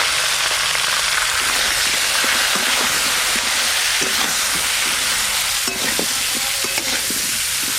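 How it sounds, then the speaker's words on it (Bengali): Potatoes and cauliflower fry together in oil in a home kitchen, a steady close sizzle running throughout with repeated scraping stirs and light utensil taps. "ওই একই তেলে আলু ফুলকপি একসঙ্গে ভেজে নেব।"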